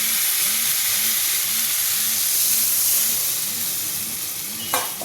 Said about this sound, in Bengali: এবার জল অ্যাড করে দেবো